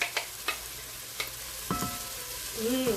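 Blended roasted peppers, onion and aromatics hit hot olive oil in a pan, giving a steady close sizzle with a few sharp crackles and pops, no talking.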